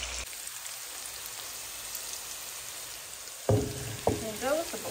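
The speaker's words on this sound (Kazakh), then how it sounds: "Пиязымыз бен етіміз қуырып алды." Onions and meat frying together in a pan for a Kazakh nansalma dish, a steady loud sizzle filling the background, with a few sharp clatters of stirring near the end.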